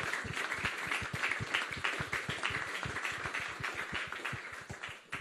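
Applause for the hosts at a British Touring Car Championship team event for the BMW 125i M Sport, dense close clapping filling the whole stretch before thinning at the end.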